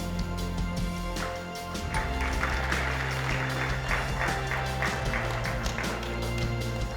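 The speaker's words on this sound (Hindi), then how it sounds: "एक बार डॉक्टर साहब के लिए ज़ोरदार तालियां।" An audience at a chapter launch event in Sonipat gives loud applause for a doctor, a busy patter of many claps over a steady low hum or background music throughout.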